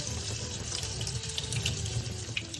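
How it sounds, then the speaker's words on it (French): Red lentils are rinsed under a running kitchen tap, a steady close hiss of flowing water with faint splashing and no pauses for the whole short stretch. "Je rince les lentilles corail sous l'eau claire."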